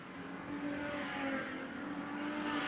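Street stock race cars roaring around the oval at Alexandra Speedway, a continuous loud engine drone with rising and falling revs from several cars at once.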